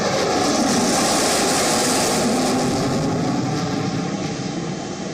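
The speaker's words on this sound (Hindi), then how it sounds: "Sukhoi 30 MKI fighter jet," Engine roar of a Sukhoi Su-30MKI fighter jet: a loud, steady, broadband rumble and hiss that holds throughout, heard alone with no voices.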